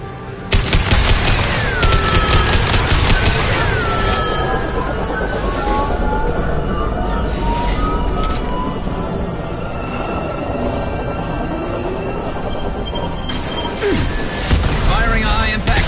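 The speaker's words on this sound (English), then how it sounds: "Firing a high-impact shot." Heavy weapon shots ring out in a Mass Effect 2 battle, dense crashing bursts and booms layered over loud game music and a continuous sci-fi din, with voices in the mix.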